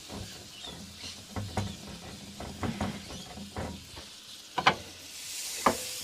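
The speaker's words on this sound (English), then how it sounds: "Let's throw some butter in the pan." Butter sizzles softly in a hot pan, with occasional clicks and scraping taps as it is stirred, fairly quiet and close.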